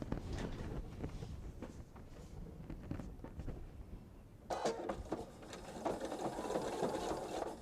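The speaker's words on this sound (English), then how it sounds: "But first I'm going to stitch around the hats." A sewing machine stitches around hat shapes on a bench pillow, a close rapid mechanical chatter that starts softer and then runs faster and louder in a steady burst.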